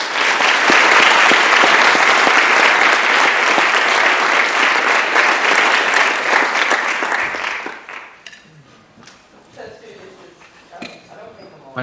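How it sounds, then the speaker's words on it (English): A loud, warm burst of audience applause greets Ambassador Stuart Jones at a fireside chat. It holds full and dense for about seven seconds, then drops away, leaving scattered claps and room noise. "join me in a very warm round of applause as we welcome Ambassador Jones to the Fireside Chat"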